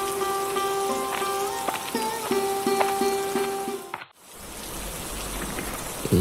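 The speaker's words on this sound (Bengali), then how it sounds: "সে সকাল থেকে এক নাগাড়ে বৃষ্টি নেমেই চলেছে।" Steady village rain on a rainy day, an even hiss of drops on surfaces, with faint sustained tones over the first few seconds before a brief dropout, after which the rain continues alone.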